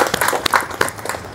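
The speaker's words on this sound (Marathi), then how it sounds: "टाळ्या वाजूया आपण" An audience at a religious discourse gathering claps together in a brief, uneven burst to wish an elderly man a happy birthday, close and moderately loud.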